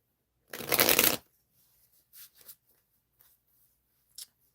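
A deck of tarot cards is riffle-shuffled in one quick, close burst, followed by a few soft taps and rustles of the cards settling, with no talk.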